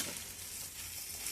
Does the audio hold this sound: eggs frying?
yes